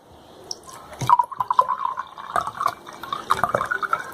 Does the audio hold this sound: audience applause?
no